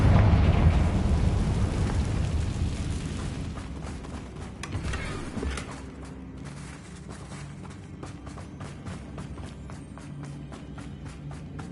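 A Confringo fire spell explodes in Hogwarts Legacy, a loud booming blast at the start that rumbles and fades, followed by a run of sharp crackling pops and scattered impacts.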